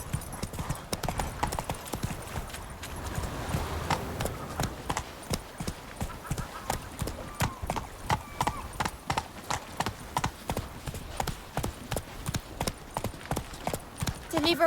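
Horse hooves clip-clop in a fast, regular galloping rhythm throughout, loud and close, with a short neigh, in the Toussaint region of the video game The Witcher 3: Wild Hunt.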